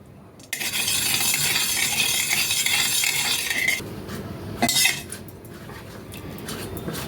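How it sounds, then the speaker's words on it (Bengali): A spoonful of desi ghee goes into a kadai, with a metallic clink of the spoon, a sustained hiss and sizzle, then a sharper clatter near the end, close and fairly quiet with no talk. "এবার আমরা এই সাইডে আমরা কড়াতে প্রথমে 1 চামচ দেশি ঘি দিয়ে দেবো।"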